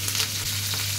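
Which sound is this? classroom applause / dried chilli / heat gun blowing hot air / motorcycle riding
dried chilli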